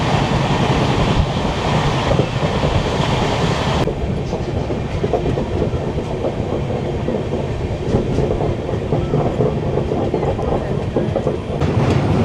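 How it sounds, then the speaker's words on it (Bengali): Steel Express train racing at over 100 km/h past Deulti station, a steady loud rumble of wheels and carriage noise with clickety-clack rhythm throughout, no voices. "আমরা এখন ঝড়ের গতিতে দেউলটি স্টেশন পার করছি। ট্রেনের গতিবেগ নিঃসন্দেহে 100 কিলোমিটারের উপরেই আছে।"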